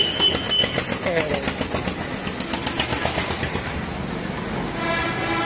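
A Swaraj 855 tractor engine at a tractor market runs with a steady, rapid chugging pulse, fairly close, while a voice talks over it; the rumble smooths out near the end.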